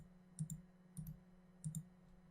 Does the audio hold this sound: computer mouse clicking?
yes